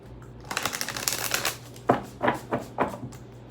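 Cards from a large tarot deck riffle and flutter in a close, crackling burst, followed by several shorter shuffling riffles at a steady pace, with no voices.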